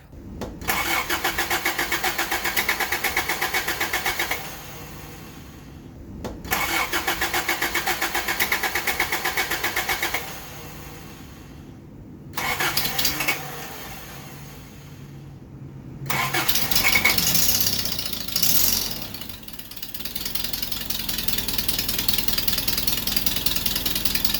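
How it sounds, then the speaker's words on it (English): A truck engine cranks and starts several times, then runs at a rough idle with a ticking, puffing exhaust leak, loud and close. "I got the exhaust fixed, and it still has a little bit of an exhaust leak"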